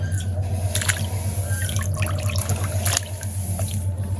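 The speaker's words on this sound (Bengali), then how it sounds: "মাংস আমি ভালো করে ধুয়ে নিছি তা আবার দুইটা ধোয়া দিলাম" Cut chicken pieces are rinsed in water for village-style biryani. Close dripping and splashing comes in short irregular bursts over a steady low hum.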